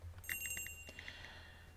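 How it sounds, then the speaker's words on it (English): A small bell above a shop door jingles in a quick cluster of bright, tinkling strikes that fade away, faint against a low background hum. "The bell above the door rang out, halting my reply."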